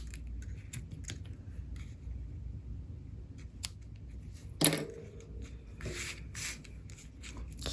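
Scissors snip through the tails of a paper-craft ribbon bow: one crisp, close cut stands out in an otherwise quiet room, followed by light paper rustling and handling.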